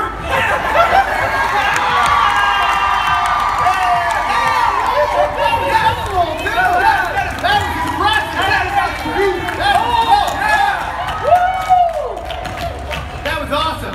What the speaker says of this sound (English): I need you guys to yell, cheer, get excited for Kurt.